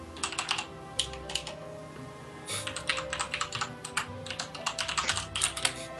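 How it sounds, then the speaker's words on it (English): Rapid clicking of computer keyboard keys in two bursts of typing separated by a short pause, close and distinct over a quiet room background. "Someone is typing to me."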